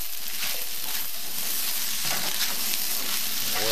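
Arroz chaufa fried rice with soy sauce sizzles steadily in a hot pan while being stirred and mixed, a continuous close crackle with scraping turns and no voices.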